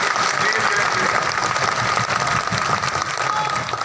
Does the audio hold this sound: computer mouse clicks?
no